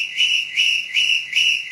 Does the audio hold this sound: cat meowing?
no